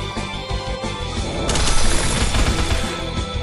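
In the mobile artillery game GunboundM, a shot bursts out with a loud crashing blast about halfway through, the impact rolling into a dense rumble over a steady game soundtrack.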